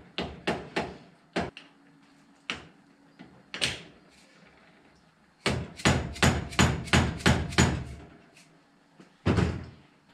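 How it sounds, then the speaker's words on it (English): A series of sharp, solid knocks from a dead blow hammer tapping in pins on a power steering pump, some in quick bursts and others spaced apart, loud and close with quiet pauses between. "Dead blow hammer, just tap them in."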